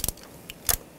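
A ratchet with a 5/8 spark plug socket loosens a spark plug on a Volkswagen Tiguan, making two short, sharp clicking bursts close up, with a faint tick between them.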